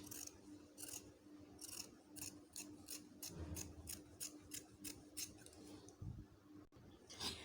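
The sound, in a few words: scissors cutting African print fabric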